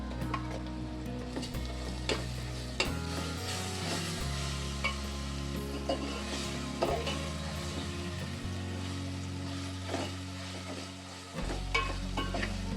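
Ginger garlic paste sizzles in hot oil for veg pulao, a bright continuous crackle broken by repeated spoon stirs and scrapes close to the pan, with no talking.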